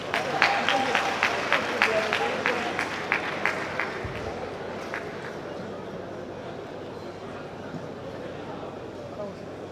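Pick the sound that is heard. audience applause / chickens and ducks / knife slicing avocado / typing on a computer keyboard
audience applause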